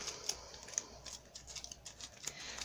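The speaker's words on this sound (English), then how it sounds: "So you're just cutting along that groove to sort of, you know, create that pom-pom" Scissors snipping through yarn along the groove of a Heidi Swapp pom-pom maker: a series of soft, irregular close cuts and clicks, faint and without talking.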